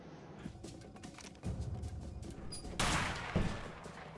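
Gunfire from the video game A Way Out, with several scattered shots and a louder blast near the end, punching through a busy, rumbling background of game ambience.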